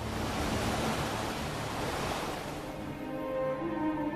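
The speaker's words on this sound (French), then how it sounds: "côtes sauvages battues par les vagues" Ocean waves break on a wild, rugged coastline in a steady, close roar of surf that eases slightly toward the end.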